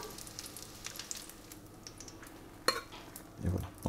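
Fish cakes fry in butter in a pan, a soft steady sizzle with a few utensil scrapes and a sharp clink near the end, then a low thump.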